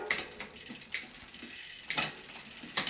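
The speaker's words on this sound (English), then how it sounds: "So now I tighten the cable." Bicycle gears on an AdventX 10-speed drivetrain tick and click in quiet, irregular mechanical clicks as the shifter cable is tightened, heard close and alone.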